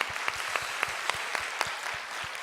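Congregation applauding during a church service, a brief burst of many hands clapping with a few louder claps close by, fairly faint and even.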